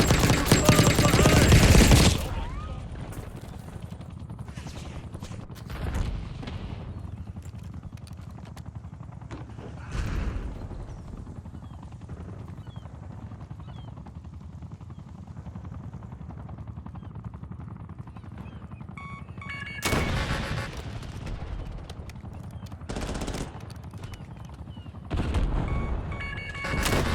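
A Call of Duty Black Ops 6 firefight against a Watchdog helicopter, with a rotor drone behind repeated bursts of automatic gunfire and loud booming blasts that come and go in several heavy clusters.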